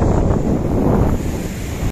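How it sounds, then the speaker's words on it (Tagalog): Strong surf breaks on a beach on Burias island, heard as a loud, continuous rumbling wash. Heavy wind buffets the microphone over a short, close stretch, and no one speaks. "Medyo malakas talaga yung alon dito. Kasi kuha ng malaki yung alon."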